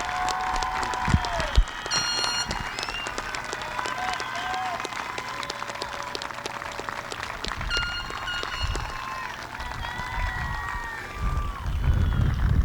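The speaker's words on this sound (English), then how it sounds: "Could we please have one more big round of applause for the graduates of the class of 2020?" Crowd at an outdoor high school graduation ceremony for the class of 2020 applauding the graduates, with a steady spread of clapping and scattered cheers and whistles. The applause is moderately distant and persists throughout, with some background noise.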